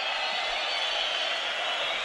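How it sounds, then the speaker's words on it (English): Boxing arena crowd at an amateur heavyweight bout at the world championships, Azerbaijani fans roaring and chanting against a Ukrainian boxer; a dense, loud, sustained wall of voices with no breaks. "Listen to the crowd."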